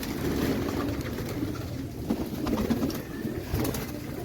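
Pigeons coo softly in low, repeated throaty calls, near and continuous, with faint background rustling.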